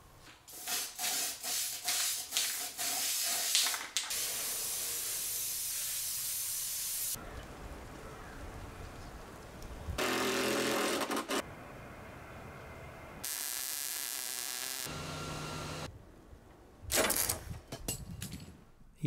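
Welding steel deck railing outdoors in the cold: loud crackling hiss from an arc, running in bursts of several seconds separated by short gaps, with sharp clicks between runs and no talk.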